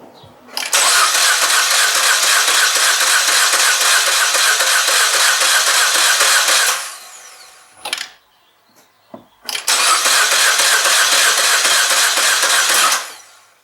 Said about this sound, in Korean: 그 다음에 진짜로 시동 한번 걸겠습니다